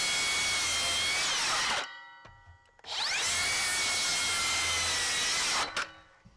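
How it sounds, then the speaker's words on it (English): Makita 36V LXT circular saw ripping through wood in two loud, sustained passes, each ending abruptly as the blade spins down, with a short quiet gap between cuts. "Definitely super smooth cuts with the Makita."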